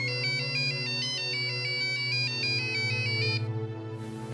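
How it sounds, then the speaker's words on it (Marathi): A telephone ringtone plays loud and close, a repeating electronic melody that cuts off after about three and a half seconds. "इंदिराचा फोन"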